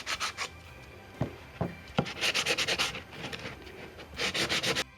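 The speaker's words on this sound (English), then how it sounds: "with the sanding sponge, as I was sanding" Rhythmic scratchy rubbing of a sanding sponge on a surface, several bursts of back-and-forth strokes up close, with a few brief taps in between.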